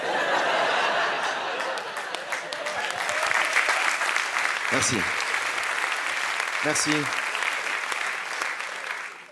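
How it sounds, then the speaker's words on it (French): Audience applause fills a stand-up comedy set in Québec, a dense, steady clapping that runs throughout with scattered chuckles, while a man briefly thanks the crowd twice. "Vos applaudissements seront reversés à une association."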